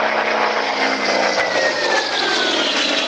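A vintage fighter plane's nearly 2,500-horsepower engine roars loudly and steadily at full power as it passes at an air show, a powerful sustained drone with a slowly falling pitch.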